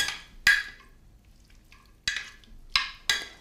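Moroccan-style vegetable salad dressed with balsamic vinegar and fresh herbs being mixed, heard as four or five sharp utensil clacks against the bowl separated by quiet gaps.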